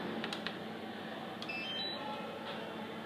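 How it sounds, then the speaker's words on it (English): A DJI Phantom 3 Professional remote controller gives a few short, faint electronic beeps while powering on, heard over a steady hum of room noise. "to turn this remote controller on, you have to press this button twice and hold it till it becomes on"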